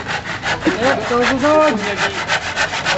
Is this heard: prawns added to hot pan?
no